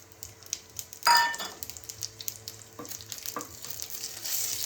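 Spices fry in a spoonful of homemade ghee with a soft, steady sizzle, punctuated by a clatter of a utensil against the pan and a few stirring scrapes.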